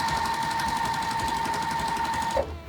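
A sewing machine stitches the sides of a quilt together, its fast, steady mechanical whir running evenly for over two seconds before stopping abruptly near the end.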